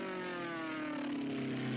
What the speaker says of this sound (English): Oh, the plane noise.